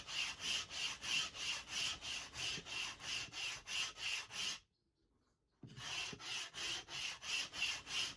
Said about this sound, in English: It's going to sand the turning well